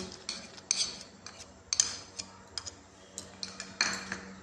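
Spoon scraping and clinking against a pot while stirring simui payesh (vermicelli pudding) with caramelised sugar, fried cashews and raisins; repeated soft metallic taps and scrapes in an irregular rhythm, close and fairly quiet, with no talking.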